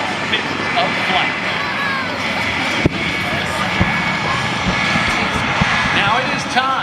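A helicopter flies at the 2025 Hillsboro, Oregon airshow, its engine and rotor noise a steady, loud, broad roar that carries on under an announcer's voice, with a few faint clicks.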